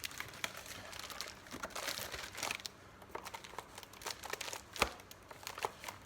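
A knife cuts open a package holding Volkswagen lenses, giving steady close crinkling, crunching and tearing of plastic and cardboard, with sharper snaps scattered through.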